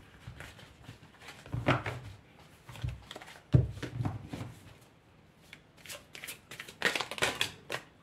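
Tarot cards shuffled by hand in irregular riffling bursts of papery flicks and soft slaps, close up, with brief quiet gaps and a denser flurry of shuffling near the end; no one speaks.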